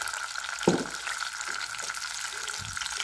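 Garlic sizzling in everyday cooking oil that is not too hot, for cheese pasta, a steady soft frying hiss with a couple of brief clinks and stirring knocks close by.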